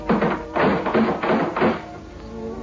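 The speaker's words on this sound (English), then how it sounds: "I knocked again." Knuckles rap on a morgue door, a few heavy, muffled knocks in slow succession with a dull, resonant thud, close and alone.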